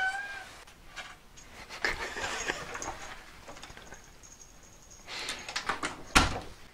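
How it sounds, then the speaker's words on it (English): A cat meows briefly in a room, mixed with clatter, rustling and a door-like knock or bump, all moderately faint. "shut up, cat"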